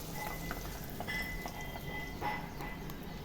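Tapioca (maravalli kizhangu) vadai frying in hot oil, a steady dense bubbling sizzle held close and even throughout, with no talking.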